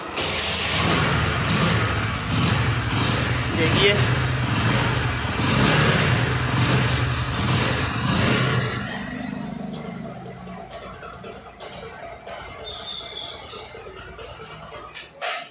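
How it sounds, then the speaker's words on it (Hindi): A vehicle with a headlight wiring fault and an engine misfire runs loud and revving for about nine seconds, then settles into a quieter, uneven idle while someone briefly speaks. "अब गाड़ी चालू करेंगे"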